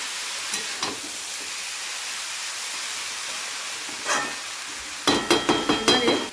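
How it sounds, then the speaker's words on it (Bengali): Cabbage being stirred with potatoes in a hot pan, a steady sizzle and hiss throughout with a few scraping strokes midway and a quick run of clattering spatula scrapes near the end. "বাঁধাকপিটা দেওয়ার পরে খুব ভালোভাবে আলুর সাথে মিশিয়ে নিচ্ছি।"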